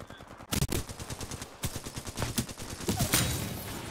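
Gunfire in Titanfall 2 comes as rapid automatic bursts of sharp shots, loud and close, rattling almost continuously over a few seconds.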